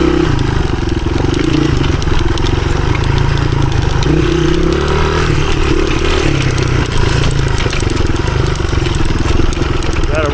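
1983 Honda XR200R motorcycle engine on a hard enduro trail loop, steady close thrumming with revs rising and falling as it climbs over obstacles, mechanical clatter and wind noise throughout.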